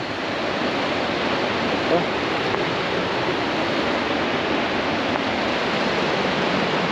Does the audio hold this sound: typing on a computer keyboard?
no